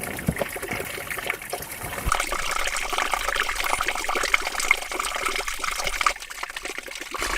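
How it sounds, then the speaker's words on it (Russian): Small forest streams trickle and babble steadily close by, a continuous watery gurgle with a faint louder stretch in the middle and no talking. "Ручейки тут 2 целых. Где? Слышишь, журчат?"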